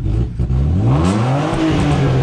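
A BMW E36 328i with a bi-turbo engine, running rough and juddering at low revs, a close, loud uneven engine drone with its pitch sliding up and down, no voices.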